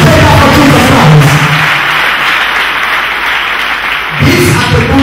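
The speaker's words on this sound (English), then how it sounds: "can we clap for Master Jesus Christ? Put your hands together for Jesus Christ" A church congregation at a Sunday deliverance service claps in sustained, loud applause, with voices and shouts rising at the start and end.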